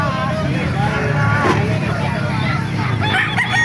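Roosters crow and chickens cluck amid a busy, noisy outdoor crowd at a chicken market, with a vehicle engine humming in the background.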